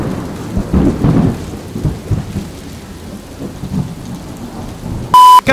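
Staged thunderstorm with steady heavy rain and low rolling thunder rumbles, loud and continuous, ending with a sharp electronic beep.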